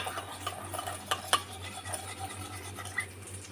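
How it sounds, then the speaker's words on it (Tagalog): Seasoning of chicken powder, black pepper and sugar stirred into a tofu and bok choy dish, giving soft scraping spoon strokes with a few clinks against the pan, faint and intermittent over a low steady hum. "mix lang natin"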